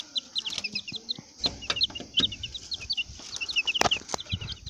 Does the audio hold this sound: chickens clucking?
yes